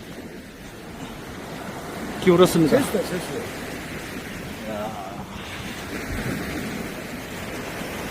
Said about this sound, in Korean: 파도는 계속 좋게 치고 있습니다